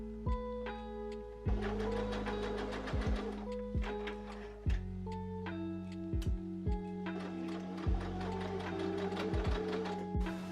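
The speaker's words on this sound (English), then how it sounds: "we'll sew that all the way up the princess seam" A sewing machine runs in short repeated bursts while stitching up the princess seam of a dress, its rapid mechanical ticking starting and stopping several times, close and clear.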